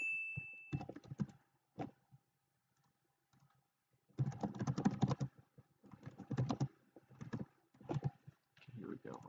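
Bursts of computer keyboard typing in clustered rapid clatters, fairly close, with pauses between them and a voice talking intermittently.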